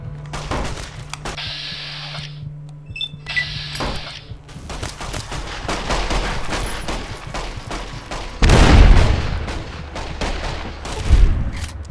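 Dynamite explosions and gunfire ring out in the Fallout New Vegas video game inside a casino: loud rapid gunshots crackle throughout, and two heavy booming blasts land near the end. No one speaks.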